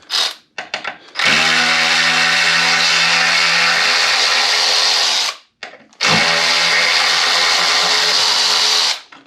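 Two long, loud bursts of a power tool whining steadily at close range while removing rear wheel bolts on a KOMOTO M1100 hub motor, separated by a brief pause, with short clicks and rattles before each run.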